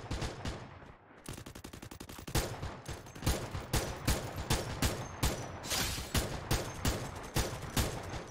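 Parafal rifle in the mobile shooter Free Fire Max firing a long run of rapid, loud automatic shots with a brief pause near the start, then steady repeated bursts continuing throughout.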